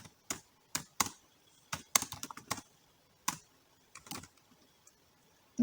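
Irregular clicks and taps of fingers typing code on a computer keyboard, close and moderately quiet, in uneven bursts with short pauses and no talking.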